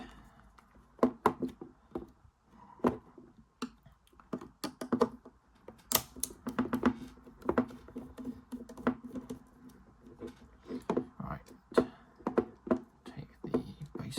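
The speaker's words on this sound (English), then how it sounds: "By the sounding of these screws, they've either been way over torqued" Small screws are worked loose from a Bachmann Dusseldorf model tram, giving dense, irregular close-up clicks, creaks and ticks from the screwdriver and plastic body.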